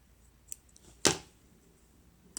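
A single crisp snip of scissors cutting the yarn tail on a finished crochet window sun catcher, close and brief amid near silence.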